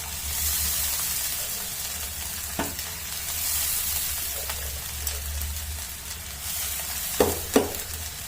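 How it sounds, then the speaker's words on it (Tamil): Soaked red poha stirred through sautéed vegetables in a pan, a steady soft sizzle and scraping running throughout with a few louder clicks of the spoon against the pan near the end. "நல்லா அடியிலேருந்து இந்த மாதிரி நல்லா கலந்து விடுங்க."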